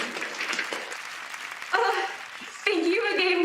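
A crowd at The Game Awards 2020 claps and cheers as Among Us wins, rising in two surges with voices calling out over the dense applause.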